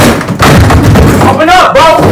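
A house door is banged and knocked hard in loud, rapid thumps, heard up close while people shout over it.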